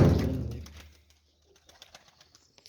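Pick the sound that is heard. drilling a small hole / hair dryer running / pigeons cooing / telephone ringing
pigeons cooing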